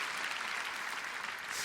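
A congregation at a young adult prayer meeting applauds briefly and fairly quietly, a steady, even rush of clapping hands heard from a distance.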